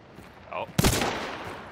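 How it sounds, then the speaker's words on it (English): A single sharp rifle shot from the Sparks LRR in Hunt: Showdown, loud and close, followed by a long ringing echo tail, with a brief voice just before it. "That was one more shot."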